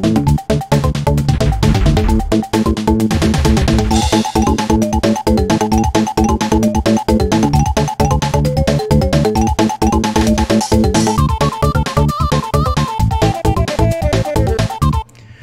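MIDI game music played through the Donkey Kong 64 sound font, with busy layered melodic instruments and steady percussive notes running continuously and loudly throughout, with no talking.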